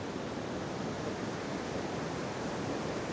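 Ocean surf washes against an Australian shore as the tide comes in and goes out, a steady, even broadband rush with no distinct breaks or voices.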